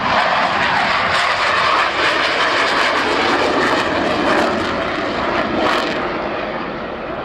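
A loud jet aircraft engine roars steadily overhead at an airshow as the plane climbs, a broad rushing noise that slowly fades slightly as it moves away.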